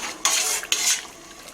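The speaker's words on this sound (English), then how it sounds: "we're going to stir this up" A utensil stirs acid dye through yarn in a heated dye pot, giving two distinct clinking, scraping strokes against the metal with wet swishing between, close and clear.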